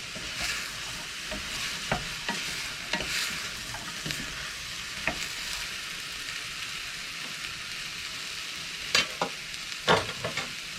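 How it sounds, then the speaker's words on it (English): Potatoes, sweet potato, carrots and parsnip being stirred into a soup pot, with steady clattering scrapes and knocks over a soft continuous simmer, a burst of sharper strokes near the end. "Just going to stir that in quickly."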